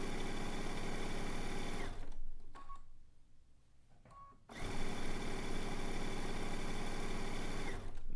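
A sewing machine stitches quilt seams for a zig zag quilt, running in a steady fast whir. It pauses for about two seconds midway, then starts again and keeps running.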